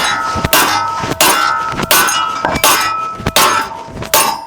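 A hammer strikes a welded steel box section six times at an even pace, each blow a loud, sharp metallic clang with a ringing tail, close up and without talk.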